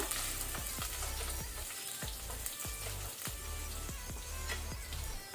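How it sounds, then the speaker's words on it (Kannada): Garlic and ginger fry on a low flame for a cauliflower pepper fry, giving a dense, continuous sizzle close by. A spatula stirs and scrapes at regular intervals, and no one speaks. "ಇದನ್ನು ಲೋ ಫ್ಲೇಮಲ್ಲಿ ಸ್ವಲ್ಪ ಒಂದು 20 ಸೆಕೆಂಡ್ ಫ್ರೈ ಮಾಡ್ಕೊಳ್ಳುವ."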